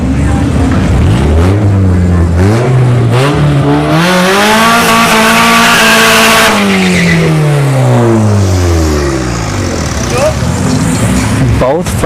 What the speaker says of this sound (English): we got the Integra all motor coming back, and he's lining up with the Pontiac